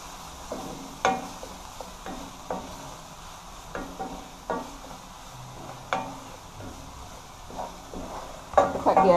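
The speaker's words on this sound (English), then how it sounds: "And we are sauteing of this seasoning" Seasoning sautéing in a pan for Jamaican-style chicken fried rice, heard as a low, steady sizzle broken by scattered light clinks and scrapes of stirring, with a louder clatter at the end.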